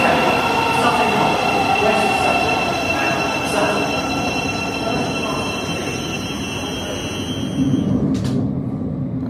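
Interior of a London Thameslink train running between stations, a loud steady rumble with high wheel squeal and a brief hiss near the end.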